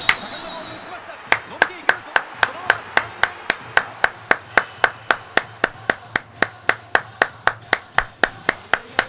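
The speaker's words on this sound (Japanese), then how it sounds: "一瞬拍手をする人になってました。" Someone claps hands alone in a steady, evenly spaced rhythm, roughly three crisp claps per second, close and loud.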